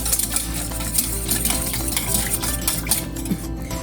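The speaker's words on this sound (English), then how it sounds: "Now I'm going to combine all these ingredients." Chow mein sauce ingredients, including sesame oil, are stirred together in a bowl, a continuous close clinking and scraping of a utensil against the bowl at a steady pace.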